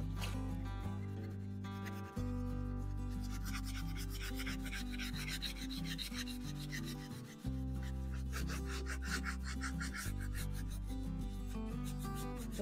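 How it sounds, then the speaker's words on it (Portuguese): Fine sandpaper rubbed over painted wood for a weathered demolition-wood finish, with steady rasping strokes throughout, close and fairly loud, over sustained background music. "Vou usar a lixa fina, tá? Para lixar."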